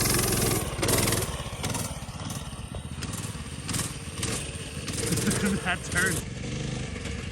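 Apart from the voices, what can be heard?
minibike engine running while being ridden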